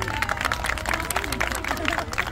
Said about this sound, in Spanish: nuestro último participante, un aplauso.